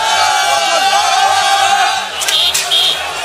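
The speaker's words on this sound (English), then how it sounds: "Crowds attacking the outside of the French embassy" A loud, dense crowd of protesters attacks the French embassy, a continuous roar of shouting and yelling close up, with a low pulsing rhythm underneath and a couple of brief high whistles near the end.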